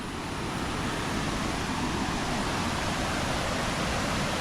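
Stream water flowing steadily near Anachadikuthu waterfall, a continuous broadband rush with no breaks, fairly close and even in level throughout.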